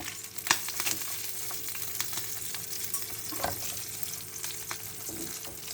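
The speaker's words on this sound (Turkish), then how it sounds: "Ve balıklarımı içerisine yerleştiriyorum." Sea bream fries in an oiled pan, a soft, steady sizzle with light spattering pops, fairly quiet and continuous at close range.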